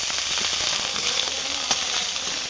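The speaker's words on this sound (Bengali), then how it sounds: "আদা বাটাটাকে তেলের মধ্যে ভালো করে একটু ভেজে নেব।" Ginger paste sizzling steadily in hot oil on a wood-fired clay stove, a continuous close, bright hiss with no talking over it.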